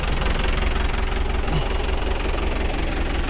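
A tractor engine runs steadily at close range while hoeing with a hoe attachment in a field, a continuous low rumble and knocking throb with no talk.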